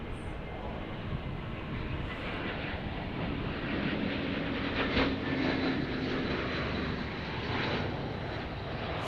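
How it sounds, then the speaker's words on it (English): An Airbus A321 airliner arriving on a south flow toward runway 18 right at DFW airport, its steady broadband jet roar sustained and fairly distant, swelling slightly midway as it passes. "Next arrival will be an A321 just around the corner here on a south flow."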